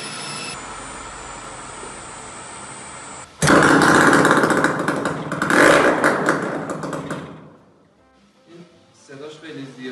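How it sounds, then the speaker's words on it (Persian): A small motorcycle engine, run without its exhaust fitted, starts after a steady high whine, then roars loudly and raggedly with no muffling for several seconds before cutting out, followed by faint clatter. "بریم که موتور رو روشنش کنیم"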